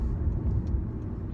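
A car driving along a road, heard from inside as a continuous low rumble of engine and tyres, steady and fairly loud, with no one speaking.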